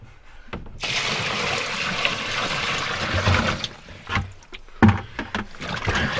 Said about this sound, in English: So I just dump water in.